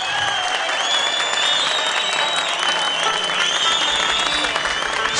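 An audience at a music night claps loudly and continuously, with cheers and whistles cutting through the dense applause.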